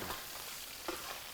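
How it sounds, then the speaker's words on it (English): Rice being stirred around in a hot pan for Chinese food, a soft sizzle with a couple of quick scraping stirs, faint and brief. "You stir your rice around"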